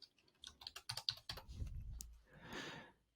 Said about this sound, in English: Let's type in contact.